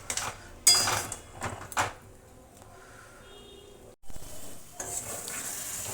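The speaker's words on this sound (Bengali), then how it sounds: "তো মশলাটা আমি ভালো করে এবার কষিয়ে নেব" Spice paste being stir-fried in a pan for a Bengali cabbage curry with snakehead fish, soft sizzling under irregular scrapes and clinks of a spatula, close and fairly quiet, with no talking.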